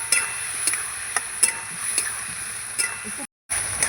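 A spoon stirring turmeric and salt through potatoes in a cooking pan, soft scraping strokes and light metallic clinks recurring every half second over a faint sizzle, with a brief silent gap near the end.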